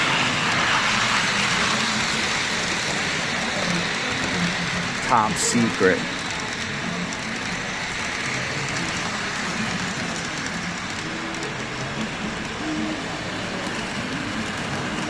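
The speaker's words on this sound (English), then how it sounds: "Here's the tribute train." Lionel model tribute train in a holiday layout rumbling steadily along its track, a continuous close hum and clatter with people talking over it.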